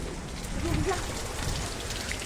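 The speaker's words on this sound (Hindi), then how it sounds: "बहुत ही ज्यादा तेज बारिश आई यार, बहुत तेज" Heavy rain pours down on a house roof and surrounding fields during a violent storm, a dense, even hiss of drops close by that runs without a pause.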